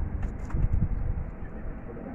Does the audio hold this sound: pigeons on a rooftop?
yes